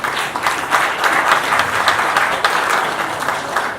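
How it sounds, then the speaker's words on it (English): An audience applauds at a startup talk, dense steady clapping that holds at a loud level throughout, with no voices standing out. "can we have a round of applause again for that?"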